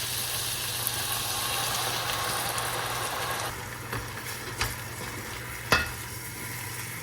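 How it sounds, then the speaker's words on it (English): Onions cook with half a cup of apple cider in a pan, giving a steady close sizzle that drops quieter midway, broken by a few sharp utensil knocks near the end. "We need to get a ½ cup of cider and cook it into the onions and let it cook for another 15 to 20 minutes."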